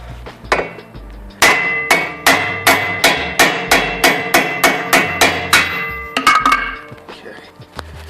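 A hammer knocks out a car wheel stud in about a dozen sharp metallic strikes at a steady rhythm, loud and close, with a few scattered lighter taps before and after.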